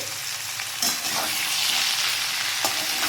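Papaya pieces with salt and turmeric sizzle and fry in a hot pan while being stirred, with a couple of sharper scraping clatters.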